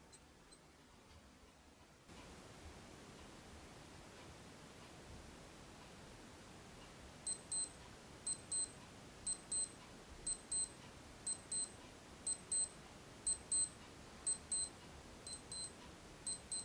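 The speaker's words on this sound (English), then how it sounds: "It comes with 1 daily alarm, so let me quickly set that so that you know what it sounds like." Faint steady hiss, then a Casio W-201 digital wristwatch's daily alarm starts beeping in tiny, high-pitched quick repeated bursts, regular and thin, continuing to the end.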